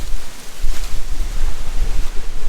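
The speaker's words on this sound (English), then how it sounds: "very windy, partly cloudy, still beautiful fall day." Strong, gusty wind on a mountain trail on a cold fall day, buffeting the microphone in loud rumbling surges that rise and fall throughout, with no other sounds standing out.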